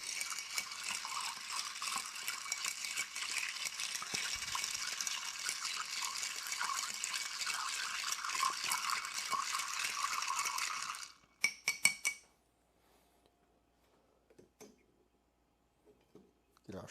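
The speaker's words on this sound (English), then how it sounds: "And now we want to give this a nice stir. Get it nice and chilled." Bar spoon stirring a Midnight Oil cocktail over ice in a mixing glass to chill it, a steady bright clinking and swishing for about eleven seconds, close and loud, then a few faint taps and near silence.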